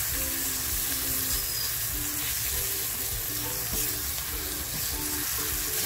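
Tomato cooking down in a homemade oyster masala: dense, continuous loud sizzling and spitting of oil in the pan with faint stirring, no pauses and no voices.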